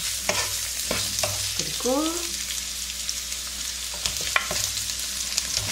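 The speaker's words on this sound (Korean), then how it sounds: "양파 채소 먼저 이렇게 달달달달 넣고 볶아요" Onion, carrot and other vegetables stir-fried in oil for a spicy octopus dish, a bright continuous sizzle broken by repeated spatula scrapes and clacks, close by, with a brief spoken word at one point.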